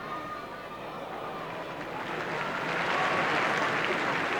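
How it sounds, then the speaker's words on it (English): A football stadium crowd at a Manchester United v PSV UEFA Cup match applauds a player's attacking run, the clapping rising and swelling toward the end, heard from a distance as a broad wash. "The crowd appreciative of the run by Hughes."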